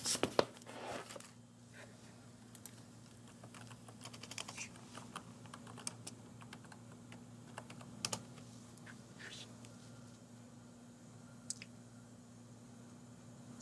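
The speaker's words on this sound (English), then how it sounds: "So I'm gonna type this address." Typing an address on a computer keyboard, quick light key clicks in uneven bursts with a few louder taps, close and quiet over a steady low hum, no talking.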